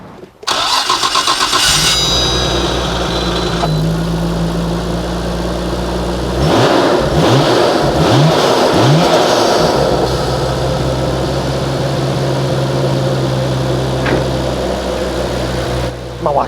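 A Nissan Skyline GT-R with an RB26DETT engine and MoTeC computer cranks, fires up and settles into a loud, steady idle, with a few sharp revs blipping in the middle.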